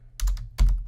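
A few quick keystrokes on a computer keyboard, two short clustered bursts of typing heard close and alone.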